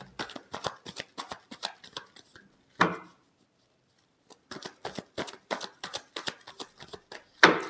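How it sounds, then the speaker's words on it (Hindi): Tarot cards being shuffled by hand, quick crisp riffling flutters in two close bursts separated by a short pause, with a sharp tap at the end. "Last shuffle."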